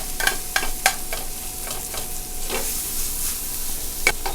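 Onions frying toward caramelization in a pan, with a continuous close sizzle and several clinking scrapes from a utensil moving them around.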